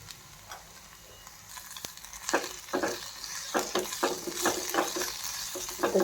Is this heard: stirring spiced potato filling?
yes